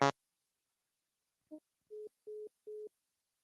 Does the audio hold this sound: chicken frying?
no